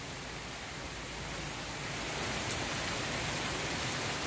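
Heavy rain pours down at a country house, a dense, even hiss that stays loud and steady throughout and swells slightly toward the end, with no voices.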